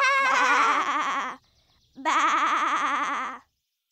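Cartoon characters imitate sheep bleating in two loud, wavering vocal bursts, one long call followed by a short pause and then a second call.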